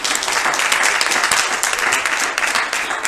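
A church congregation at a Lent sermon claps hands together in a steady, dense wash of applause that holds at an even level throughout, with no voices.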